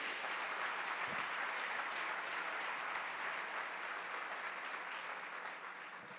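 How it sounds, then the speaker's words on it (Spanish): A church congregation applauds during a pastor's sermon, a sustained, even patter of many hands clapping that fades slightly toward the end. "denle un aplauso al Señor"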